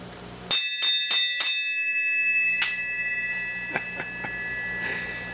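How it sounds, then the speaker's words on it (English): A hand bell rung outdoors at the end of a workday, four sharp bright strikes in quick succession with a ringing decay, then a louder single strike and a few fainter taps. "Would you care to ring the bell?"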